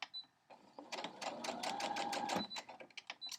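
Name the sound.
sewing machine stitching seams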